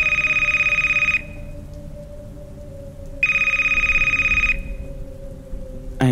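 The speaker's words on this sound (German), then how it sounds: "Und dann klingelte mein Telefon." Telephone bell ringing in two long electronic bursts separated by a pause, loud and clear over a low steady hum, with a brief click at the end.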